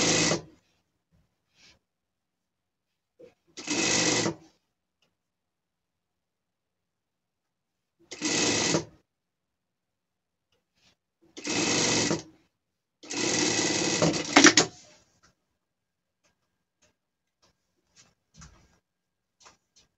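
Sewing machine stitching fabric pieces together for a gaucho-style pet outfit, running in five short bursts of steady whirring separated by silences, close and clear with no talk.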